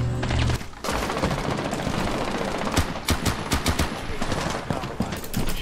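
Rapid gunfire in Rainbow Six Siege: dense bursts of automatic shots crackling over a busy game backdrop, with a short lull before the firing picks up again.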